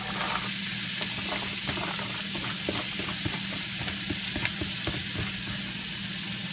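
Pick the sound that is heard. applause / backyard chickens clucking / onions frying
onions frying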